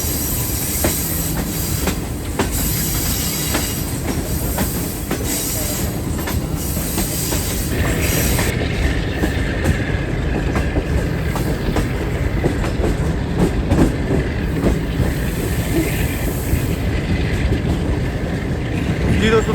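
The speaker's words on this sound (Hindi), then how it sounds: "ट्रेन हमारी कितनी ऊपर हाइट पर, पहाड़ के ऊपर चल रही है इस वक्त।" The Green Line Express train rolls through mountains in Rawalpindi division with a loud, constant rumble and rhythmic clatter of wheels on rails, heard from inside a carriage, with faint squeals and a voice talking under the noise.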